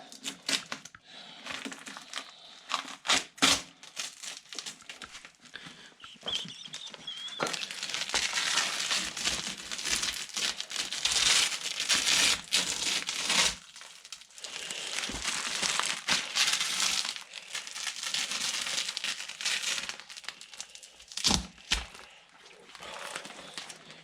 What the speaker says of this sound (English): Now I take this tape off.